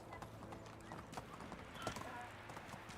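A horse in Medieval Dynasty trots off with a rapid, steady clip-clop of hooves, moderately loud, with a voice talking over it.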